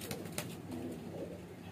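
A small garra pigeon coos softly and steadily, close by, with a low continuous murmur running under the calls and no voices.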